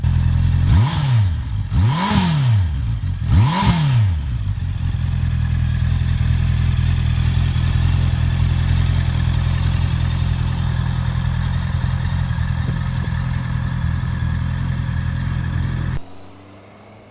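A 2019 Honda CB650R Neo Retro four-cylinder motorcycle revs sharply three times, each rise and fall quick and loud, then settles into a steady, rumbling idle before cutting off.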